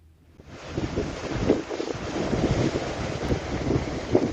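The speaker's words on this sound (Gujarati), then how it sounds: "પોરબંદરના દરિયામાં જબરજસ્ત કરંટ દેખાઈ રહ્યો છે" Strong sea current and surf pound the Porbandar coast on the Arabian Sea as Cyclone Shakti stays active, a dense, continuous roar of waves mixed with heavy wind buffeting the microphone.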